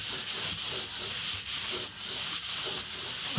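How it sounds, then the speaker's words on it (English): Metal guide rails on Tomy AFX / Aurora slot car track being rubbed clean: a continuous close, hissing scrub in steady back-and-forth strokes, each about half a second long, with no talking. "Just rub by the metal guides"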